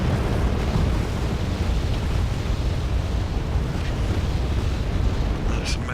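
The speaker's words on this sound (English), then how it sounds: "I see a HE explosion" Continuous heavy rumble and roar of high-explosive blasts from a bombing run by Mirage and Aardvark jets in the Wargame AirLand Battle video game, dense and loud throughout with no clear separate impacts.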